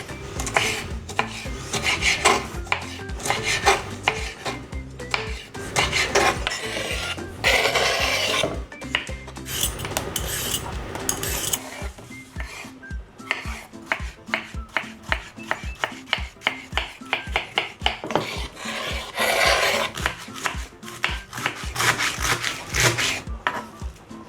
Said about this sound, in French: pendant ce temps on va venir se couper tous les légumes